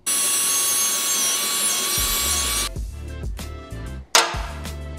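A power tool cuts through metal on a workshop tea-warmer build, a steady loud cutting drone for over two seconds before it stops, followed by clattering and knocking of the piece being handled.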